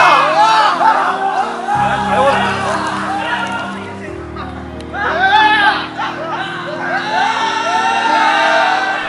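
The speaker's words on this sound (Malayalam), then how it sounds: "പൂരപ്പന്തലിൽ നിന്നും ആർപ്പുവിളികളോടെയാണ് സംഘം പുറപ്പെടുക" A group shouts and cheers loudly as a temple festival procession sets out from the festival pavilion, a crowd of raised voices with whoops over a steady low drone.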